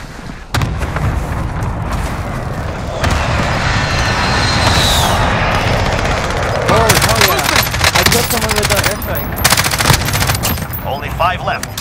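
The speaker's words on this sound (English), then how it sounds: "Allied precision airstrike incoming." Loud gunfire and explosions fill a battle royale shooter match during an allied precision airstrike, bursts of automatic fire and booming impacts layered over a constant roar, with voice callouts mixed in.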